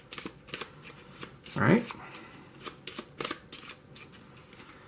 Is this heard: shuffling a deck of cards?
yes